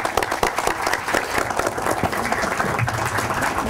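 Attendees at a civil defense committee meeting clap for a departing minister, a brisk, continuous round of applause from a room full of people, fairly loud and close throughout.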